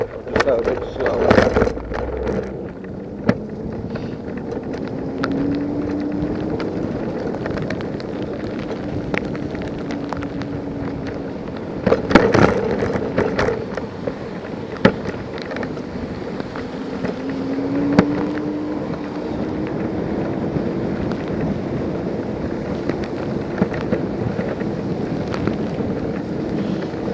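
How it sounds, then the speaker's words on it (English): Wind roaring over the microphone while riding a Superpedestrian hire e-scooter through Nottingham, a steady, loud buffeting rush throughout with a whining motor tone and occasional bumps, a rider speaking over it at times. "I don't know if you can hear that wind"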